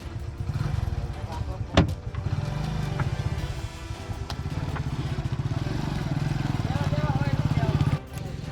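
Motorcycles ride across a narrow bridge without railings over deep water in rural Sitapur, engines droning steadily and close for the whole stretch, with a sharp clatter early on and a rise in revving near the end.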